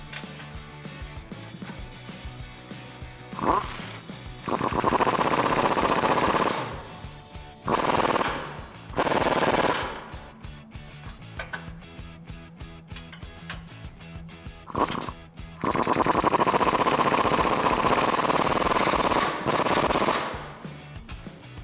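Impact wrench driving Toyota Tacoma front suspension bolts with a 21mm socket, loud rattling bursts of hammering repeated several times with quieter pauses between.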